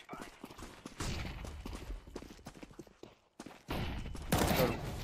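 Counter-Strike 2 gunfire comes as a string of sharp, rapid shots mixed with clattering footsteps. A louder burst closes the passage, with little talk over it.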